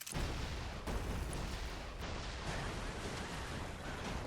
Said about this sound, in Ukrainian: Із-за тих вибухів.